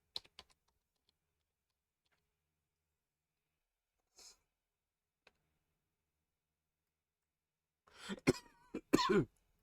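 Near silence with a few faint clicks, then a close burst of harsh coughing near the end.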